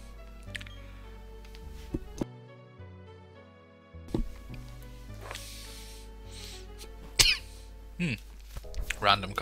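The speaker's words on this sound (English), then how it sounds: "Random coughing." A person coughing and clearing their throat over steady Pokémon Diamond game music, with a few short, sharp coughs toward the end standing out above the tune.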